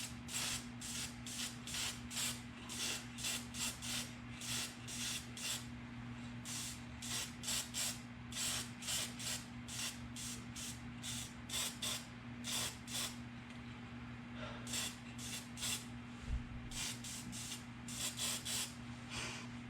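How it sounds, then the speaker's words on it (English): Aerosol spray paint coating a Jaguar MKII carburetor part in gold, a series of short hissing bursts repeated in an uneven rhythm over a steady low hum, close and moderately loud, no talking. "So I'm going to spray this,"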